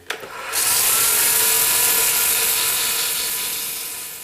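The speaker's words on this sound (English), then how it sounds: "So I got a lot of sanding to do" A power sander starts with a click and runs with a steady high-pitched whir while sanding a button pen, continuous and close, slowly fading slightly.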